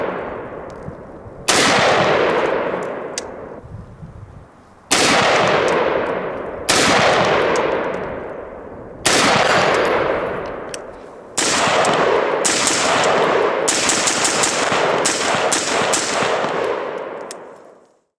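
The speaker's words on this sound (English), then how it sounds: "It's a good-looking rifle, and it shoots great." Noveske Infidel 5.56 rifle with a 14.5-inch pinned and welded barrel and flash suppressor brake, fired outdoors in several loud sharp volleys, with each shot's echo ringing out between bursts and a long continuous string near the end.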